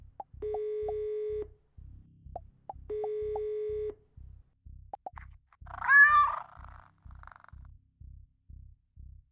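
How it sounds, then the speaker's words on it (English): A cartoonish cat meows once through a phone call in a video game, heard between repeated synthetic dial tones and a steady beeping, ringing pulse. "The dinosaur picks up her phone and calls her cute cat, Mr. Robson."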